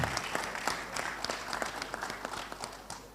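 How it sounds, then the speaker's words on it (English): Audience applause at a retail leadership summit for participants, a steady wash of many hands clapping, fairly faint and distant, alone without talk. "So let me ask everybody to applaud those who participated but did not become winners."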